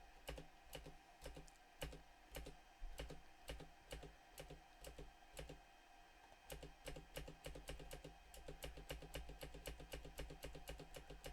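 Keys on a computer keyboard are pressed repeatedly and quickly, close and crisp clicks in irregular bursts that grow denser toward the end.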